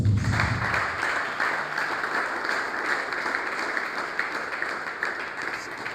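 Church congregation applauding during a Sunday worship service, a dense, steady wash of many hands clapping that holds evenly for the whole stretch with no voices standing out.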